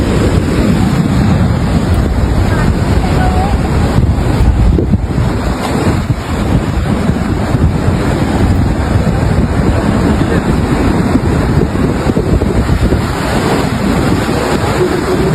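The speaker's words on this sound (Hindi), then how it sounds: "गेट है ये पूरी तरह से चालू है कि देख सकते हैं क्या पानी की रफ्तार है।" Water roars through the open gates of the Gosikhurd dam in a loud, steady, broadband rush that lasts the whole stretch, with heavy wind buffeting the microphone and no clear break in the flow.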